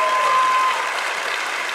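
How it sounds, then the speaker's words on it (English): A brief, steady wash of crowd applause from a live podcast audience, dense and even throughout with no distinct voices. "It's a round of applause"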